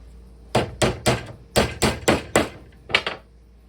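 Pegs are hammered into a Codex Quest page assembly: nine sharp, close knocks in two quick bursts of three and four, then a final pair, ringing briefly in a quiet room.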